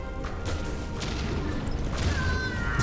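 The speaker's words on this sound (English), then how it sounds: "I am sick of all these explosions" Explosions in the video game Silksong: a dense, rumbling series of booms and crashing impacts with scattered sharp hits, loud and continuous across the stretch.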